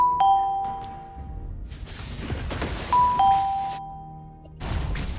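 Two bright two-tone stream notification chimes ring a few seconds apart, clear and close, with quiet background noise between them.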